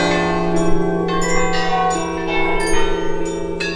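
Electronic bell tones from a commemorative choral-orchestral piece, triggered from iPads, ring out in overlapping sustained peals with repeated fresh strikes, steady and fairly loud with no voices.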